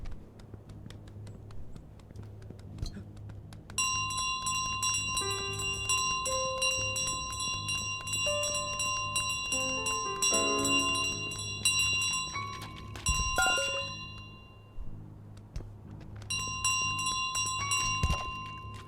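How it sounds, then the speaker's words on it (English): A bell in Untitled Goose Game rings in repeated bright, metallic bursts that keep sounding over a soft, quiet background, with no speech. "Give me that goddamn bell."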